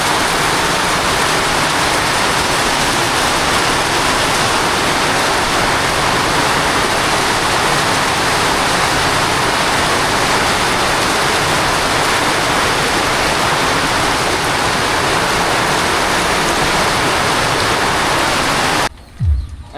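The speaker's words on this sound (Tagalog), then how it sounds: "grabe na lakas na ulan" Heavy rain pours down steadily around a fishpond in the Philippines, a dense, loud, unbroken hiss close by that ends abruptly with a couple of faint knocks.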